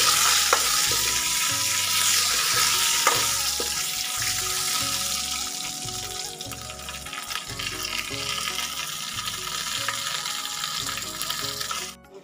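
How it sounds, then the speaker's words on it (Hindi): Mustard oil sizzles steadily in a pan while saag is tempered, a loud continuous frying hiss with stirring scrapes and clinks running throughout, no talk over it. "तो मैं ना यहाँ पे फिर सरसों का तेल डाल रही हूँ दोबारा से और एक बार फिर से छोंकूंगी मैं"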